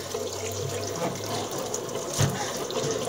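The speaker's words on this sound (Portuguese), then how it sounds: "Eita, já tá vazando água aqui, ó." Water runs and splashes steadily from a leaking Arno spin dryer under test, a continuous close wash of liquid with a brief louder gush near the end.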